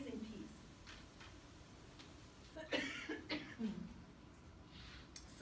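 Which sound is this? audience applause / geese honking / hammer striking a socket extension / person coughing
person coughing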